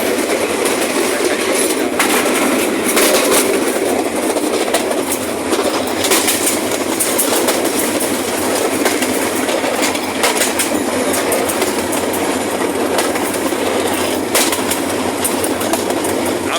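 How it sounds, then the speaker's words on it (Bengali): A train rolls along rails in Bangladesh, passing near an old British-era bridge on the approach to Sripur station. It gives a steady, loud rumble and rattle with rhythmic clicks and some squeal, and runs without speech for the whole clip. "অল্প কিছুক্ষণের মধ্যেই আমাদের ট্রেন শ্রীপুর পৌঁছাবে"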